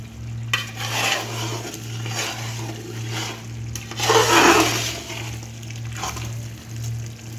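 Spoon stirring yogurt into okra curry in a pan, with steady scraping and swishing strokes over a constant low hum, one louder sweep partway through, no talking.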